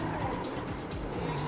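A slippery car skids with squealing tires in GTA V, a continuous loud engine roar with smeared tire screech running throughout, no pause.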